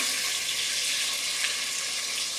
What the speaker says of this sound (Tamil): இப்போ எடுத்து வச்சுருக்க வெங்காயத்தை போட்டுடலாம். நீள நீளமாக கட் பண்ணி வச்சுருக்க வெங்காயம்.